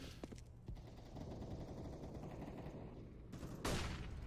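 Desert Eagle pistol fire in Counter-Strike on the Mirage map during a competitive match: a few sharp shots early, a steady rumbling bed of game noise, then a louder burst near the end.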